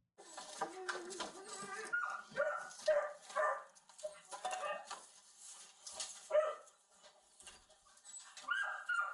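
Malnourished dogs inside a house bark, yip and whimper in an overlapping series of near, moderately loud cries with pauses between, while voices are faintly present.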